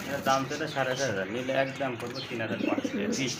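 Pigeons of fancy breeds such as Lahori, Modena, Satin and racers coo at a pigeon sale, soft throaty calls repeating closely over one another for a few seconds.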